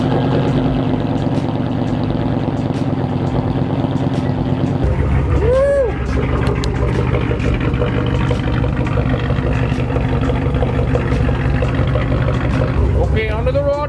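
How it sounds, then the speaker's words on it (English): A cammed V8 car engine cold-starts and settles into a loud, lumpy idle close by. It runs continuously, a brief rising whine marks the start, and someone talks over the rumble. "So let's go for a cold start, hit the road"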